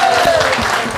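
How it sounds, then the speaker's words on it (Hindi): A brief burst of audience clapping at a public interaction program, with a voice speaking over the applause. "जोरदार तालियां हो जाए इनके लिए।"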